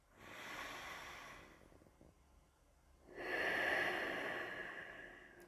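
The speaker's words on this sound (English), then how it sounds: "Take 3 breaths." Slow, deep breathing during a morning yoga flow: a long soft exhale, a quiet pause, then a fuller, louder breath close to the mic, with no talking.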